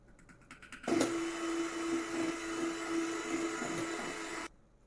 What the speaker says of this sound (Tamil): நன்கு அடித்தவுடன் சிறிதளவு வெண்ணிலா எசன்ஸ் ஊற்றி அடிக்கவும்